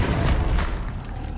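A Bombarda spell explodes in Hogwarts Legacy, a deep booming blast with a low rumble that fades over a second and a half amid combat effects.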